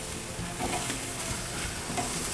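Chicken kabobs sizzle on a real-fire grill, a steady close crackling hiss with small pops and faint scraping stirs, continuous throughout without any voices.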